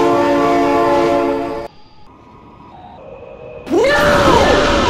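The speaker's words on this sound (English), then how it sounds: "Oh my god, train!" A train in the BeamNG Drive driving game blasts a long, loud horn, cuts off abruptly to a brief quiet stretch, then the horn and heavy rail noise surge back, with groaning metallic tones toward the end.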